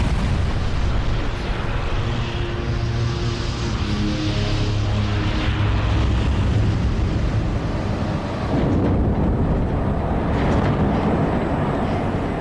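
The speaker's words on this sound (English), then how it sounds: "Blade-off testing is normally top secret. But for the first time, Rolls-Royce have released this footage." Rolls-Royce jet engine destroyed in a blade-off test, a loud sustained roar with rumbling low-end turbulence that shifts character partway through, continuous throughout with no talk.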